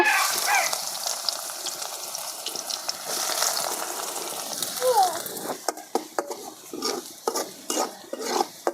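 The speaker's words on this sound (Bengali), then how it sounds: "প্রথমে আমি এই তেলেই বেরেস্তাগুলো ভেজে নেব" Onions frying in hot oil in a wok for beresta, a steady broadband sizzle with stirring scrapes and clinks that grow more frequent toward the end, close and moderately loud.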